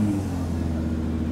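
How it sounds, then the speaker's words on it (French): Idling engine of a cold Nissan GT-R fitted with a tuning kit, a steady low rumble held close and loud, with faint voices in the background. "ça a démarré la voiture pour qu'elle chauffe"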